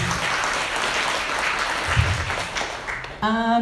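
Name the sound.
audience applause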